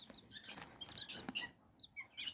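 Serama and white silkie chicks, 24 days old, give short high chirps and peeps, sparse at first and then a louder close cluster in the middle, with quiet gaps between calls.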